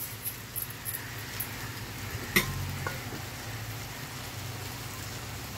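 Fried sago and mung dal added to a pan with turmeric and stirred, a soft steady sizzle with light scraping and a sharp clink partway through, close and quiet.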